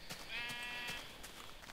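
Sheep in Minecraft bleating, a quiet, wavering bleat in the middle over steady background game ambience and faint clicks.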